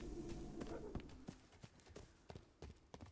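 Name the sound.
footsteps in the video game Dark and Darker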